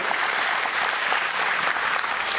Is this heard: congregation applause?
yes